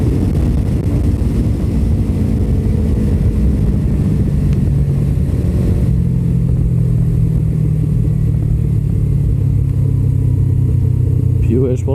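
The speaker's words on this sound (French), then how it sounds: "je pense que le pot a été débridé parce qu'elle a fait vachement de rupture je trouve quand je relâche les gaz" Motorcycle of about 180 kg with a derestricted exhaust, steady loud engine drone throughout that shifts pitch around the midpoint as the throttle changes, ridden close by with wind noise and no talk.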